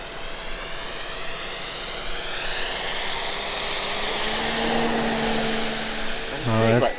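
Electric 1/3 scale Super Cub RC airplane flying overhead, a steady whirring electric motor drone with slowly shifting pitch as it passes, fairly loud throughout, a brief tonal rise near the end.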